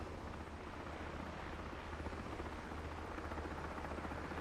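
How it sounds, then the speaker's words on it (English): A simulated MH-60 helicopter's steady, heavy rotor and engine roar in Microsoft Flight Simulator 2024, loud and continuous throughout, with no talking. "Now that was a little bit of a taste on what this helicopter has to offer."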